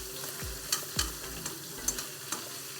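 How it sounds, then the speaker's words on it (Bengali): Fish pieces fry in a pan for a Bengali poppy-seed fish dish. A low, steady sizzle runs throughout, broken by several sharp utensil knocks and scrapes at irregular intervals. "এবার একটু ভেজে নিই, আর মাছ কটা ভাজা হোক"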